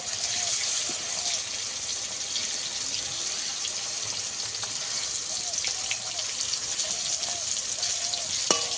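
Paneer pieces sizzle steadily in hot oil in a pan, a continuous close, even frying hiss with faint crackles and no talk over it.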